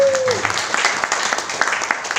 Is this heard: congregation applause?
yes